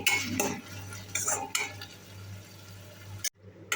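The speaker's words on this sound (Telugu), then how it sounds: "ఇవి ఫ్రోజోన్ బఠానీలు వీటిని ఇందులో వేసుకొని ఒకసారి అంతా బాగా కలుపుకొని" A spoon stirs frozen peas into palak curry in a pan, with scraping strokes and metallic clinks over a low sizzle, ending in a sudden brief quiet.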